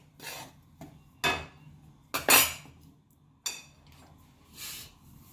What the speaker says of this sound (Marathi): चला तर आता आपण हे एका ताटात काढून घेऊया.